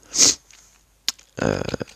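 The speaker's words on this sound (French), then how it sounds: "Désolé si vous m'entendez renifler" A few quick, close nasal sniffs, one sharp and breathy, then a short click and a rougher, longer snuffle.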